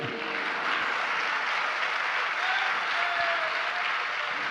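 Steady, loud applause from a large audience at a religious sermon, a continuous wash of clapping that holds level throughout.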